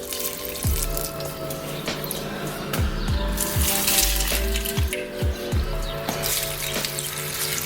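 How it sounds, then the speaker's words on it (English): Crystal water poured from a container onto indoor houseplants, a steady trickling splash that runs throughout over a background of sustained tones. "I'm taking this crystal water and I'm using it to water my plants"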